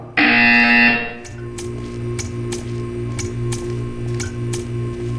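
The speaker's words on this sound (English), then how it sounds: "You will hear a buzzer." Buzzer in the video game Portal 2: a loud, harsh electronic buzz lasting about a second, followed by a quieter rhythmic mechanical pulsing with regular ticks.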